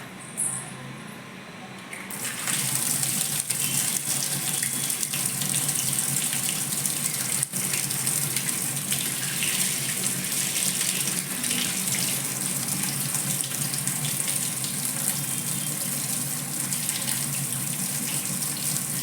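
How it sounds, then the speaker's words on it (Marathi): Tap water runs in a steady, loud gush that starts after a brief quieter moment and continues unbroken with no talking. "पाणी आलेलं आहे नळाला"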